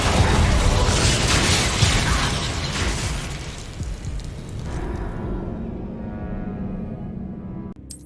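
Expulsor and Confringo spells explode in Hogwarts Legacy, a loud roaring blast that rumbles and fades into lingering debris and mechanical clatter, ending with a brief sharp crack.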